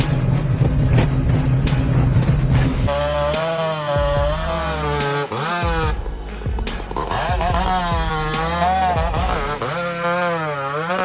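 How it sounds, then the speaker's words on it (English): A chainsaw felling a 150-foot-tall spruce roars loudly for the first few seconds, then gives way to other wavering, tonal sounds. "the lumberjack wields a powerful chainsaw to tackle trunks of enormous"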